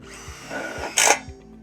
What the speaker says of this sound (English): We'll now screw our C-posts together using 2 screws at the top.